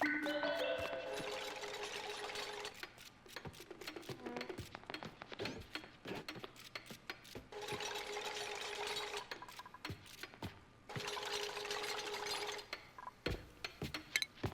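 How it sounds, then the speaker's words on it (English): Mechanical whirring from a vacuum machine in the video game Pip & Hatch, running in long steady bursts with short gaps between them, separated by clicky rattling noises. The bursts are quiet and there is no talk over them. "Yeah, you gotta love a vacuum."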